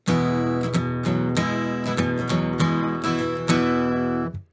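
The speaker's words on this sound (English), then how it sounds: "So the first section is going to sound like this." Up close, an acoustic guitar in DADGAD tuning strums ringing open chords in a steady flowing rhythm, full and sustained, before stopping at the end.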